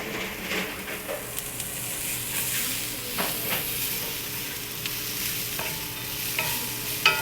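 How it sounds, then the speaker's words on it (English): Vegetables for an oxtail dinner sauté in a hot pan, a soft continuous sizzle broken by scraping stirs and a few utensil knocks, close-up with no voices. "So we saute these vegetables."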